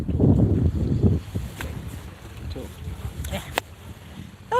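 Water moving behind a speaker outdoors in Scotland, a broad rushing wash with gusts of wind buffeting the microphone, loud near the start and then softer and steady.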